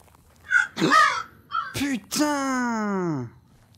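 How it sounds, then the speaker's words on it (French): A crow caws several times in the horror video game Misery Mansion: a short hoarse call, two rasping caws, then a long drawn-out descending caw, loud and close in a quiet scene. "Le cri de corbeau là!"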